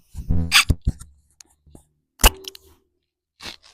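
A sudden loud indoor sneeze bursts out near the start, followed by a few scattered short vocal sounds and breaths, with a second sharp burst a moment later.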